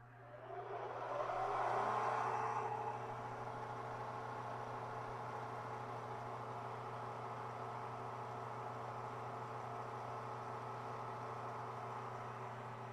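A diamond cup wheel on a home shop arbor spins up: a rising whine swells over the first two seconds, then settles into a steady, even motor hum and drone that runs on alone.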